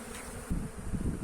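Honeybees in an eight-frame hive hum steadily up close, a dense buzzing drone that swells slightly as the swarm stirs.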